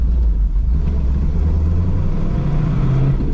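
1974 Pontiac Firebird Trans Am Super Duty 455 with a 4-speed on a test drive, a loud deep engine rumble heard steadily from inside the car, with no talking.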